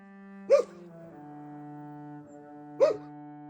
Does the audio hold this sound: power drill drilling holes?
no